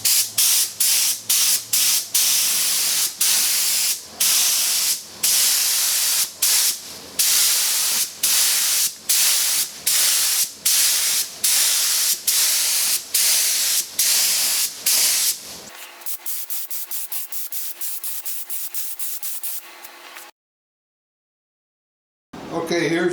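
A spray gun applies light brown toner to 1979 Thomasville end tables in loud hissing bursts that repeat in a steady rhythm, then softer, shorter sprays before quiet.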